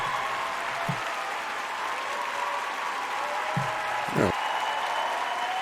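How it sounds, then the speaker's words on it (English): A thin, light round of applause from a small audience at a late-night talk show rattles on steadily as a continuous crackle, with a few faint low tones beneath it. "It's a slight round of applause, man."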